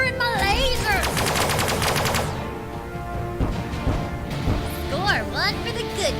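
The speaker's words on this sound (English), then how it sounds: "I'm a firing my laser." Rapid bursts of laser fire from a starship in the Sunrider space-combat game, loud and dense with a repeating stuttering rhythm, followed by sweeping electronic zaps.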